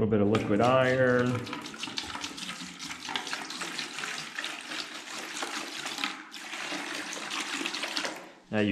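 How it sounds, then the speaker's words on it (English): A voice speaks briefly, then liquid iron solution pours steadily into a 2-gallon bucket with a continuous splashing gush that runs for several seconds. "Let's pour in a little bit of liquid iron."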